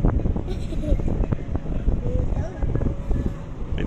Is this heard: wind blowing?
yes